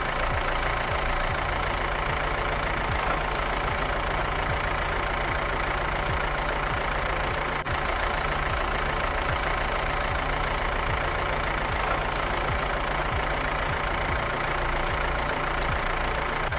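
A tractor engine idles and chugs in a steady, loud, rhythmic knock with low throbbing pulses throughout, heard alone without voices.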